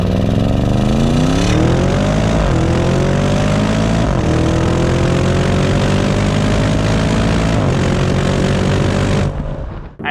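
An Audi RSQ8 performance SUV's powerful engine roars loudly as it accelerates, pitch climbing through several quick 8-speed Tiptronic gear changes with brief dips between shifts, exhaust rumbling throughout.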